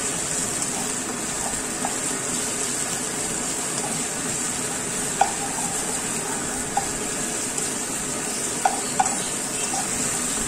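Garlic for chicken afritada sizzles in a hot pan, a steady hissing fry broken by a few faint clicks and stirs.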